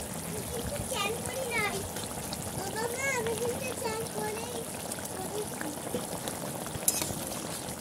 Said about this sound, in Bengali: ঝোল কিন্তু ভালো করে ফুটে গেছে।